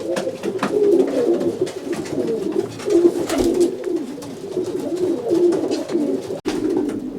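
Twenty racing pigeon cocks coo steadily inside the racing section of a loft, with a close, continuous murmur of overlapping coos and occasional rustles.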